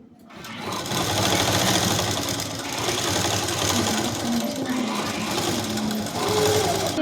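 A tailoring sewing machine stitches interlock piping around a neckline in one continuous loud, close whirring run after a brief quiet start, with a faint voice in the background.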